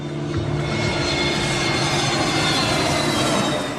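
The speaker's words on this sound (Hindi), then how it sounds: "मुंबई के हवाई अड्डे से विमान रनवे पर दौड़ता हुआ उड़ान भरता है।" A passenger plane races down the runway at Mumbai airport and takes off, a loud, continuous engine roar holding steady throughout, with no voices.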